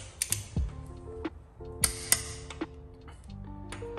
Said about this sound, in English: Even pressure, you don't want to go too fast until you feel the click.